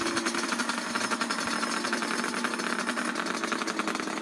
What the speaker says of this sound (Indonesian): perbedaan suaranya nanti antara motor 2 tak dan 4 tak